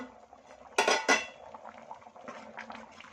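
Two quick metallic clanks as the lid comes off a cooking pot of simmering avarekalu saaru (field bean sambar) on a home stove, close and sharp, followed by faint bubbling.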